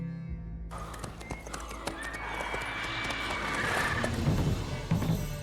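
Horse galloping in the video game The Witcher 3, with rapid close hoofbeats that build steadily and a whinny toward the end.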